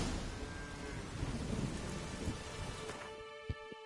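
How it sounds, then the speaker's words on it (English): A thunderstorm in the Witcher 3 game world, with heavy rain pouring steadily and low thunder rumbling underneath, ending in a few sharp cracks as the storm thins out. "Wind whipped and rain battered, Geralt stumbled into a small village on the"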